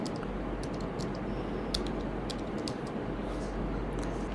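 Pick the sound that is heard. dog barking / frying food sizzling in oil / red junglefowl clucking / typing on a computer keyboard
typing on a computer keyboard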